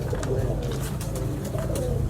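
A Ghanti breed pigeon coos softly and close by in a continuous low murmur, with faint background noise throughout.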